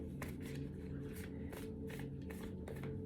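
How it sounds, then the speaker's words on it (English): Tarot cards being shuffled by hand, a steady run of soft papery riffles and slaps repeating about every half second over a low background hum. "Maybe I should just start doing that because shuffling annoys some people"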